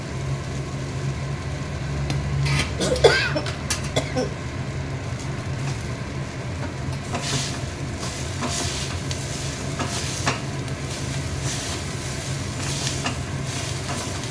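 Boiled, drained chow mein tossed with fried chilies in a frying pan, giving a steady, continuous sizzle with soft scraping and a few sharper clatters near the start.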